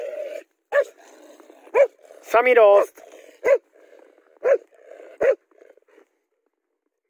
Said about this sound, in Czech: On jak je slabší, tak se snaží hulákat, aby se ten velký pes bál.